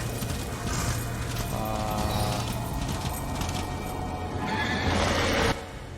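A horse neighs loudly in the video game Darksiders, the whinny rising over a dense bed of game music and ambience with hoof clatter and a sharp burst near the end.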